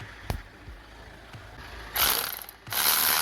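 A ratchet loosens an 18 mm bolt on the starter motor of a 2008 Skoda Octavia, with a few isolated clicks followed by two quick bursts of close, rapid ratcheting.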